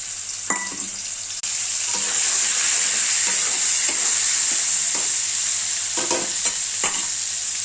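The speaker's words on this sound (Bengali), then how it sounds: "এবার চিংড়ি মাছগুলো দিয়ে ভেজে তুলে নেব।" Prawns sizzle in hot oil in a wok with a strong, even crackle. Sharp clinks and scrapes from stirring break in now and then.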